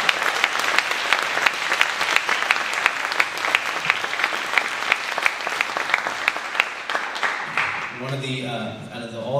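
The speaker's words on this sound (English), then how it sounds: "please stand and be recognized for a round of applause to you for all your hard work" A concert audience applauds the orchestra booster board at the El Dorado HS Sinfonia Orchestra spring concert, with steady, full clapping for most of the stretch before a voice begins speaking near the end.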